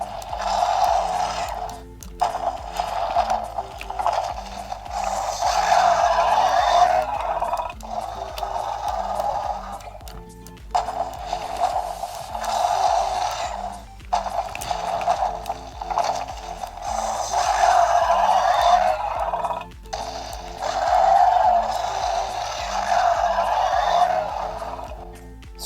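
A Mattel Jurassic World Primal Attack Sound Strike Edmontosaurus toy plays a series of electronic roars and growls in repeated bursts, close and loud, with short pauses and mechanical clicking between them.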